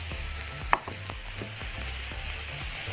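Peppers for a vegetable shawarma stir-fried in a pan, giving a steady close sizzle with repeated scraping stir strokes and one sharp clink of a utensil, and no voices.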